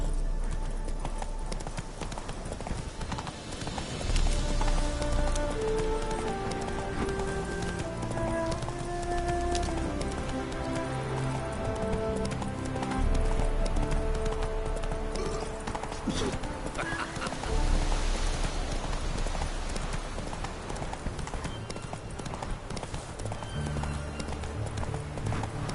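Horse hooves galloping steadily in The Witcher 3, a continuous rhythmic clip-clop close up, layered with game music and ambient sound throughout.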